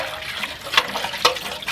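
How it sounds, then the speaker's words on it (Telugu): Water poured over cut fish pieces in a bowl during cleaning, a steady close splashing wash with two brief sharper splashes. "ఈ టైంలో కాస్త వాటర్ వేసుకొని"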